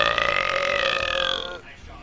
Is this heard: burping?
yes